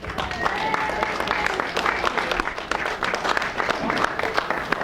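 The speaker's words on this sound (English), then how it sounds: "Big round of applause for Irwin Corey." Audience applause for comedian Irwin Corey at his 100th birthday celebration, a steady, dense wash of clapping from a crowd that holds for the whole stretch, with faint voices and a few cheers mixed in.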